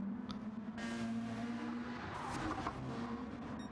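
A race car in a Watkins Glen GTO Gr.2 video game race spins out with tires skidding, a sustained squeal over steady engine drone lasting several seconds.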